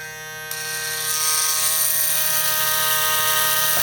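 A hair clipper opened to lever setting 2 runs with a steady, loud mechanical buzz and rattle that rises after a brief start and holds continuously, with no talking.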